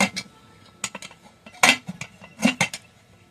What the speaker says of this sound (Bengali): এবার আমি ঢাকনাটা ভালোভাবে আটকে নেব।